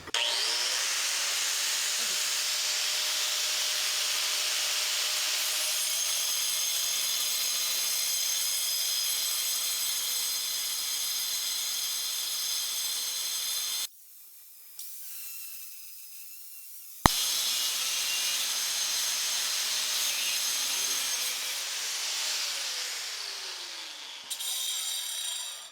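A Graff diamond cutoff wheel slices through 1-inch square steel tubing with a loud, steady high-pitched grinding whine. It cuts out briefly partway through, then resumes at full intensity and trails off near the end.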